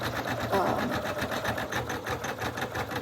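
An embroidery machine stitches a 6,000-stitch patch, a steady rapid mechanical chatter running throughout at close range, with a voice talking over it.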